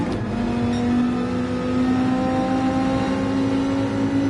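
Race car engine in the Gran Turismo 7 racing game holding a steady, loud drone with a slowly rising pitch, continuous throughout with no talk over it.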